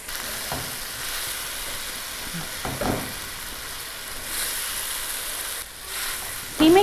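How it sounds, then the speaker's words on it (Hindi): Minced meat (keema) with spices frying in a pan over medium heat, a steady close sizzle with a few stirring scrapes and a brief clatter near the end. "तमाम स्पाइसेस को हमने यहाँ पर कीमे के साथ अच्छी तरह से भून लेना है।"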